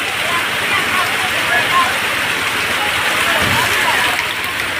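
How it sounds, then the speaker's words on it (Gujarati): Heavy downpour in Tapi village, a dense steady roar of rain pounding surfaces, loud and close, continuous throughout with no pauses. "તાપીમાં ધોધમાર વરસાદ."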